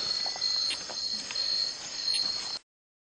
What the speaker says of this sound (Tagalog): kasabay ng huni ng mga kuliglig